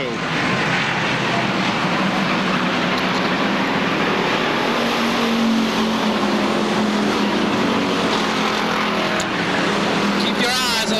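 Stock cars race at Seekonk Speedway during 1999 weekly racing, a steady, dense engine roar filling the track with no gaps, while an announcer talks over it.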